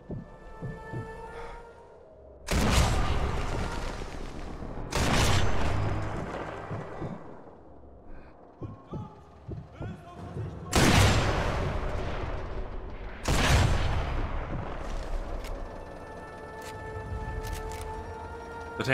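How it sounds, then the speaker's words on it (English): Tank cannon shots in Sniper Elite 4, fired at the player through a building: four heavy booming blasts spaced a few seconds apart, each with a long rumbling decay, with quieter stretches between. "is the tank trying to shoot me through a building?"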